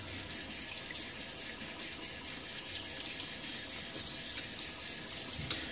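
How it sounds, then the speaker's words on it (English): A tap runs steadily while a safety razor is rinsed during a wet shave, a continuous close splashing hiss of water with no talking. "Rinse off the sides because it's just easiest to do right now than later."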